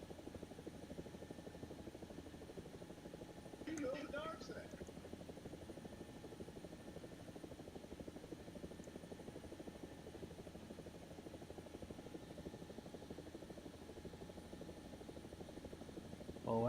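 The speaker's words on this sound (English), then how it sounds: "Oh, those are friendly planes." Friendly aircraft flying overhead in a video game, heard as a faint, steady low droning rumble throughout, with a brief higher chirp near the four-second mark.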